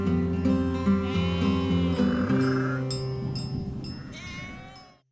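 Sheep on a farm bleat in several long, wavering calls that overlap closely, loud and near at first, then fading out toward the end.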